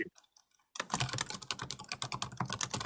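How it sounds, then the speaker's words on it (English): Fast, furious typing on a computer keyboard, a dense stream of close clicks and clacks that starts after a brief silence and keeps going without pause. "Someone's typing furiously."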